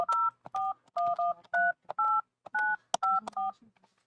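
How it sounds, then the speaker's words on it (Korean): Telephone number being dialed, a quick series of about a dozen crisp two-tone keypad beeps with short, uneven gaps between them, clear and close with faint background noise. "전화 걸어보도록 하겠습니다."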